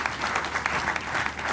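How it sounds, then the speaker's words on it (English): Audience applause fills the room in a steady, dense wash of clapping, sustained and even throughout with no voices standing out, at a live lifestyle event. "I think LBRC deserves a round of applause."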